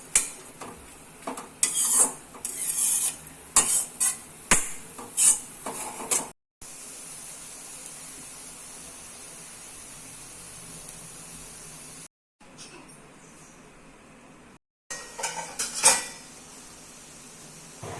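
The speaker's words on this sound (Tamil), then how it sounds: "அரைச்சி வச்ச தேங்காய் விழுதை இதோடு சேர்த்துக்கிறேன்." A spoon scrapes and knocks against a pan as ground coconut paste is mixed into half-cooked cabbage and carrot, with rapid clinks early on, then a steady low hiss with brief gaps and a few more taps near the end.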